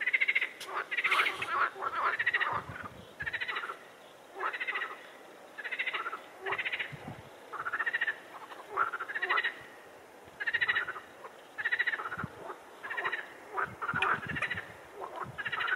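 Frogs croak in repeated bursts, a chorus of raspy calls pulsing every second or so, fairly close and continuing steadily with no talking.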